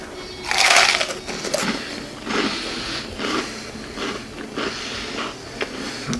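Someone bites into a crispy rosette pastry dusted with powdered sugar on a food tour in Frankenmuth, Michigan, producing a loud close crunch followed by several softer chewing crackles.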